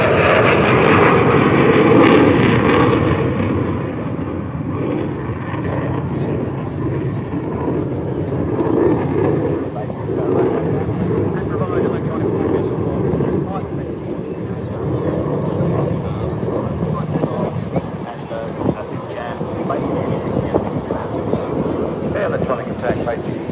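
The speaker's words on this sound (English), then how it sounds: "it's the Royal Australian Airport Growler electronic attack aircraft" A Royal Australian Air Force Growler electronic attack aircraft makes a flypast over Mindil Beach, a loud sustained jet roar with wind buffeting the microphone and a voice talking over it.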